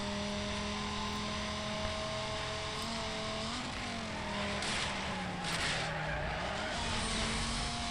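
Car spins out during a race in the video game Need for Speed Most Wanted, sustained tire skid squeal over roaring engine drone, the pitch sliding as revs drop then climb again, loud and without talk.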